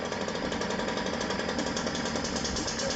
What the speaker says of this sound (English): we can hear this bogging when I hit throttle